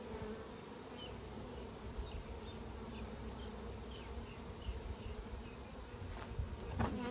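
Steady, close buzzing drone of many bees around a hive, with individual insects passing near the microphone, and no talk.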